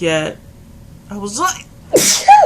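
A single sharp sneeze bursts out loud and close, surrounded by a person talking before and after.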